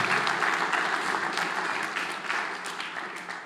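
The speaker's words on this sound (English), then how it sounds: "Please give them a round of applause too." An audience at a school board meeting applauds students, a thick, even round of clapping that stays steady before slowly fading.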